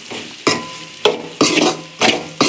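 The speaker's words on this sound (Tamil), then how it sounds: "கரம் மசாலு மல்லித்தூள் போட்டிருக்கேன் நல்லா வதங்கட்டும்" Garam masala and coriander powder sizzle loudly in a hot pan while being stirred, with bursts of frying noise recurring every half second or so.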